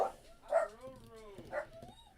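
A pet dog gives a few sharp, loud barks or yelps spaced about a second apart. A person talks over and between them indoors.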